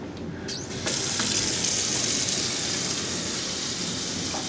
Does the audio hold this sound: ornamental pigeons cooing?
no